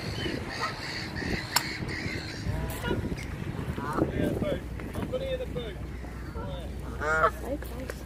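Geese at Lake Windermere honking in short, nasal calls, a few bursts near and mid-distance over wind and lapping water while people talk nearby.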